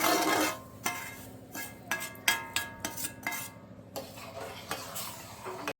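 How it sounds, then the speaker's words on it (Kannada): Semolina being stirred into boiling water in a pan for kesari bath, a spoon scraping and clinking against the metal in a slow, irregular series of taps and rubs over a low bubbling simmer, close and fairly quiet. "ನೋಡಿ, ಈ ಥರ ಚೆನ್ನಾಗಿ ನಿಧಾನಕ್ಕೆ ಮಿಕ್ಸ್ ಮಾಡ್ಕೊಳ್ಳಿ"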